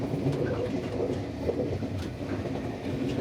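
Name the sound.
train riding to Tainan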